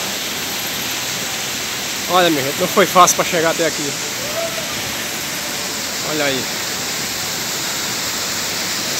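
Steady broadband roar of a waterfall at Sítio Macapá in Araruna, Paraíba, continuous throughout, with someone speaking briefly over it midway.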